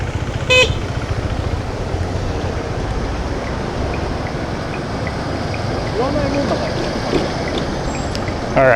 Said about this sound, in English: Did you hear me honk it, by the way?